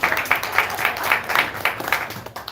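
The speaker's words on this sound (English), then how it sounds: "Everybody, let's give Casey a big round of applause." An audience at a live magic show claps in a short burst, a modest crowd of hands with individual claps standing out in a loose rhythm, moderately close and lasting a couple of seconds.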